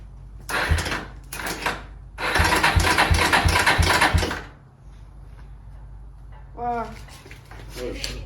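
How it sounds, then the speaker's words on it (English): A motor with its carburetor bolted on and gas hooked up cranks as the starter solenoid is jumped: two short churning bursts, then a longer steady crank of about two seconds, loud and close, followed by brief voices. "I'm gonna see if it will crank crossing the solenoid"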